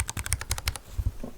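Quick burst of clacky keystrokes on lubed mechanical keyboard switches, about eight close, crisp taps over the first second, then a few softer presses trailing off.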